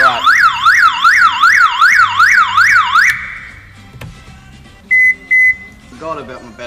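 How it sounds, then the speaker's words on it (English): A car alarm's battery backup siren wails in a rapid rising and falling electronic sweep, loud and close for about three seconds before cutting off, followed by two short steady beeps. "Forgot about my battery backup siren."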